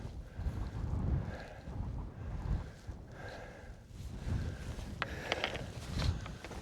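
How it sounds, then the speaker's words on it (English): Wind gusts across a cold, exposed mountainside at Red Pike, a low rushing roar that swells and fades over the microphone, with a few faint knocks near the end. "See that wind blowing through over there"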